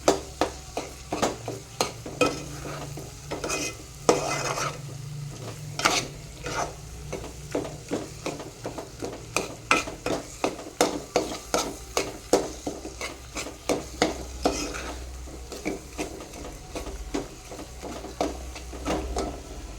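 Egg curry with a splash of hot water being stirred in a pan: a steady low simmer under repeated scraping and clinking of a spoon against the pan, close and fairly quiet, with no talk.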